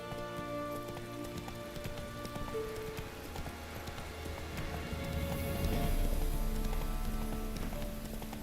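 Roach the horse gallops in The Witcher 3, hooves clip-clopping in a quick rhythm over a wet, rain-like hiss. The hoofbeats are fairly quiet and swell a little toward the end.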